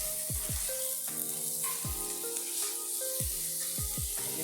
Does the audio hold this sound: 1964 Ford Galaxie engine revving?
no